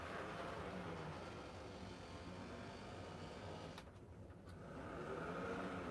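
A loud Santa Fe model train locomotive runs steadily with a continuous mechanical hum and rumble. The sound dips briefly near the end, then returns at full strength.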